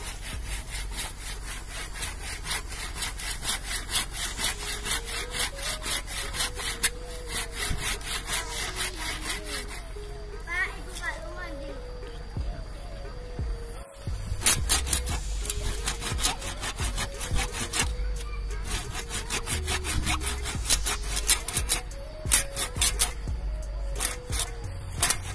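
Hand saw working through hard tamarind wood from an air-layered tamarind cutting, rapid rhythmic rasping strokes close by, continuous with a short pause midway before sawing resumes louder.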